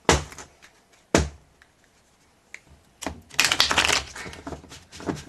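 Tarot cards being shuffled in bursts: sharp slaps and riffles, a pause, then a longer rapid riffling flurry near the end, close and crisp.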